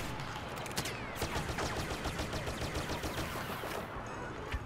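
Rapid blaster fire crackles through a Star Wars Battlefront Drop Zone multiplayer match on PS4, dense overlapping bursts and volleys in a steady barrage, moderately quiet and continuous throughout.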